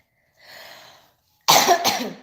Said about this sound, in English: that cough was driving me crazy